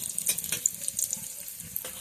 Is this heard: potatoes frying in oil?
yes